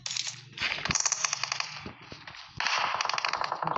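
Machine gun fire rattles in rapid bursts of sharp cracks, loud and dense, with a short pause midway before another burst.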